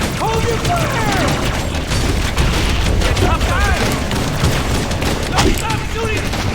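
Continuous gunfire and booming explosions from Halo combat, dense and loud throughout, with voices talking over the battle noise.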